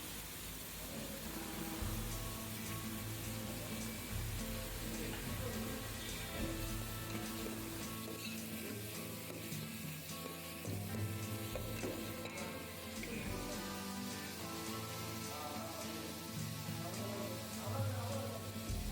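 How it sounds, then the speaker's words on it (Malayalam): Tomato being stirred with turmeric and salt in a pan for Kerala-style moru curry, a steady scraping stir over soft sizzling frying, continuous and close with no talking. "തക്കാളി ചേർത്ത് കൊടുത്ത് നന്നായിട്ടൊന്ന് മിക്സ് ചെയ്തെടുക്കണം"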